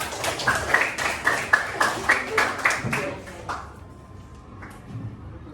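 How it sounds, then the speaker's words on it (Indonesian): A small group of pupils claps in a primary classroom, a few seconds of rhythmic, fairly close hand claps that fade into quiet room noise and faint talk. "Tepuk tangan dong."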